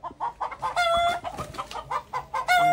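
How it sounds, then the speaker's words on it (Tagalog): Startled chickens clucking behind a house, a flurry of close, rapid squawks and clucks in uneven bursts, with a rooster-like call mixed in. "Nabulabog ko pa yung mga manok."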